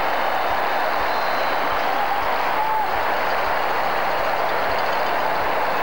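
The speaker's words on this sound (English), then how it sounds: "Great applause now for Valderrama going off." Stadium crowd applauding during a substitution at a Copa América 1993 football match between Argentina and Colombia in Ecuador, a steady broad wash of clapping and crowd noise throughout, distant and continuous with no clear voices on top.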